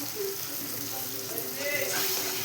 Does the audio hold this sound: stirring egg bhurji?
yes